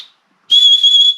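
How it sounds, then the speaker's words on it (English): A whistle from a Mora Kansbol bushcraft knife kit gives one steady, shrill blast of about two thirds of a second, loud and close, with no talk around it. "you've got the whistle as well."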